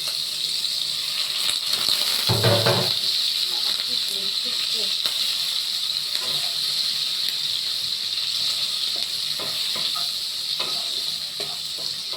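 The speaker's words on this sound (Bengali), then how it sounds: "চিংড়ি মাছটা দিয়ে দিলাম" Prawns dropped into a hot pan with pumpkin, a loud burst of sizzle at the start settling into a continuous hiss and crackle of frying, with occasional faint clinks nearby.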